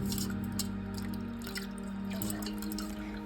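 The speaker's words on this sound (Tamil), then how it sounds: "வெளியில் மழையோட இரைச்சல் சத்தம்" Rain patters and drips outside in a steady, close wash of droplets, with a faint low hum underneath and no voices.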